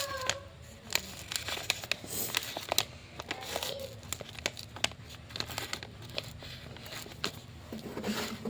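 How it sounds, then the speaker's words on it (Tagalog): Scotch tape is pulled and torn in a string of sharp crackling rips and crinkles, close and fairly quiet, scattered irregularly over several seconds with no talking. "stop muna natin kasi syempre lalagyan natin ang scotch tape dito."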